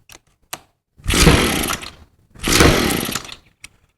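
A weed eater is pull-started on half choke with two long, rasping cord pulls. Each pull sets off a sputtering burst as the engine tries to catch, with small clicks before, between and after.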